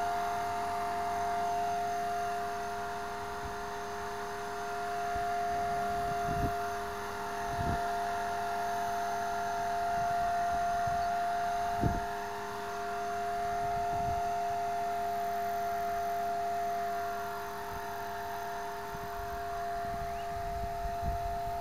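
A Blade 300X RC helicopter hovers outdoors with a steady high-pitched rotor and motor whine, close and constant, with slight pitch wavering and a few faint thumps.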